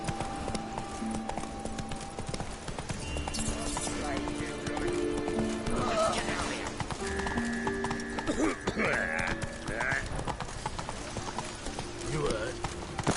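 Horse hooves clopping in The Witcher 3 game, a steady clip-clop rhythm with a whinny and voices talking over it, along with game music and background sounds.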